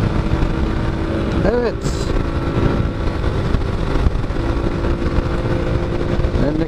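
A Bajaj Discover 125 ST motorcycle rides along on a long road trip, its engine droning steadily and loud close up under wind rush, with a brief spoken word at one point.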